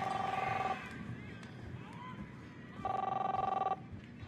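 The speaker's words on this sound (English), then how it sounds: "answer the phone" An in-game telephone in Captain Spirit rings in two bursts of electronic trills separated by a pause, with faint background murmur between them.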